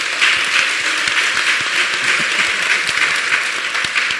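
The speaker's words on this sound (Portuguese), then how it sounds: "eu queria, por favor, uma salva de palmas à nossa saudosa" A seminar audience applauds, a dense, even wash of many hands clapping at steady volume for several seconds without pause.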